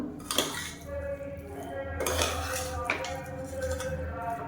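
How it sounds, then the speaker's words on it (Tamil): Cooked biryani rice being turned over from bottom to top in a metal pot, repeated scraping and clinking of a spoon against the pot, close and clear, with a low steady hum underneath. "இப்போ வந்து கீழேருந்து மேலே வரைக்கும் நல்லா பரட்டி விட்டுக்கலாம்"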